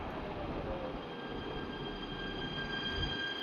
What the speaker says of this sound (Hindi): अभी हमारा ट्रेन आ गया हमारे गंतव्य स्टेशन तक